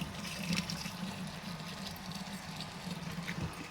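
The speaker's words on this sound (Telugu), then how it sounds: "tap water" Muddy, foamy municipal tap water runs in a steady, moderately quiet rushing stream for a few seconds, with no speech.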